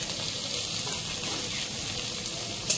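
Onion posto, sliced onion with poppy seed, cooking in a pan on a home kitchen stove gives a steady, close hiss and sizzle that holds evenly throughout, with a brief sharper tick near the end.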